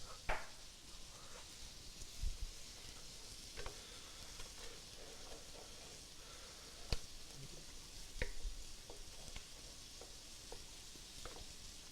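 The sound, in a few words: mushrooms sizzling dry in a pan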